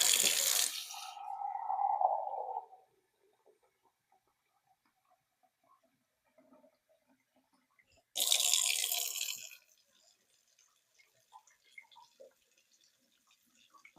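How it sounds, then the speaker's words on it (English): Water pours into a crock pot in two bursts, a couple of seconds at the start and again after a long quiet gap, followed by faint drips and clinks. "Now we're just going to add some water to maybe just almost cover it."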